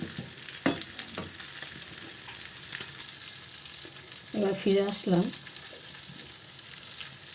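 Food fries in oil in a kadai while chicken biryani is being cooked, a low steady sizzle with a few clinks of stirring, and someone speaks briefly near the middle.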